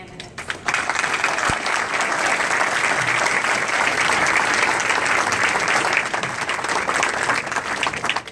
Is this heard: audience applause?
yes